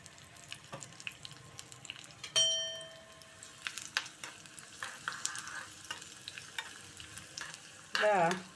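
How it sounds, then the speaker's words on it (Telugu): Tempering of mustard seeds, cumin, urad dal, dried red chillies and four crushed garlic cloves frying in hot oil for a bottle gourd curry, with a steady sizzle, stirring scrapes and a sharp burst of spatter near the end. "ఇలా తాలింపు పెట్టేస్తే"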